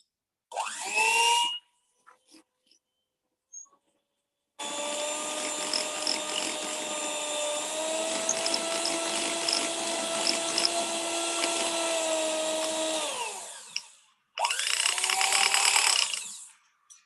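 An electric mixer whips cake batter with a steady, tonal motor whine, running in a short burst, then a long continuous stretch of about nine seconds, then another short run, with near silence between.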